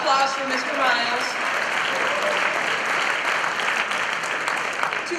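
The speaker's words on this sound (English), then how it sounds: "Round of applause for Mr. Miles." Spring sports banquet audience gives a round of applause for the athletic director, steady sustained clapping filling the room while someone speaks briefly at the start.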